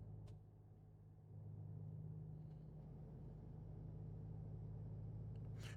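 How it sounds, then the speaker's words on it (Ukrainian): Steady low rumble of a Volvo VNL 740 semi-truck engine heard from inside the cab, loud and continuous without talk, with a slight rise in intensity after the first second. "Ото ця фура, вона дійсно гучна."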